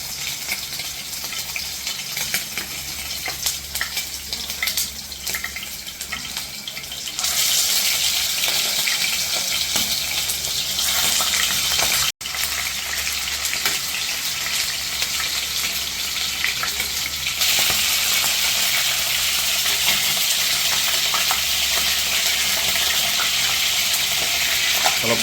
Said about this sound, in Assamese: কুচিয়াখিনি ভাজি ল'ম